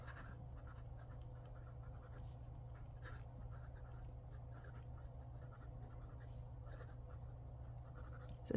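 A Sailor Pro Gear Slim fountain pen with a medium-fine 21 karat gold nib moves across smooth paper, giving very faint, close scratching strokes over a steady low hum, with no talking.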